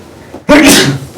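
A single loud, sharp sneeze bursts out nearby after a brief near-silent pause, in a classroom during a physics lecture.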